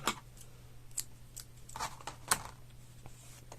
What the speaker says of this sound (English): cut the yarn, leaving the tail